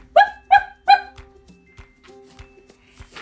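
Dog barking nearby, three quick, loud barks in a row followed by quieter faint sounds, with no talking.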